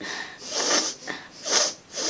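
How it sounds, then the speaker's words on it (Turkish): A person sniffs repeatedly through the nose as if stuffed up with a cold, about three or four sharp sniffs spaced through the clip, close and clear with no talking. "Burnumuzu çekiyoruz."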